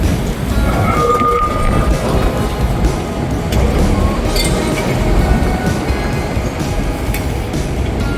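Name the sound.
tram arriving at the stop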